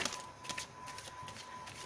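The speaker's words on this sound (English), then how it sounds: "I'm shuffling like that" Tarot cards being shuffled by hand in quick, papery riffles and slides, close and fairly soft, with no speech over them.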